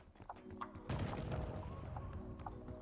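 A thrown grenade detonates in Black Ops 6, a distant muffled boom after a few light thuds, rumbling low and fading out with no voices.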